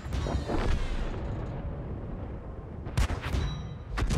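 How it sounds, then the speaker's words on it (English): Heavy booming tank cannon shots from the World of Tanks game, a couple of loud blasts with long rumbling decays and a sharp crack near the end, over engine rumble. "You are trying to shoot while you're moving."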